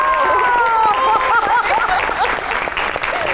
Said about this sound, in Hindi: आपकी बहुत सी तालियों में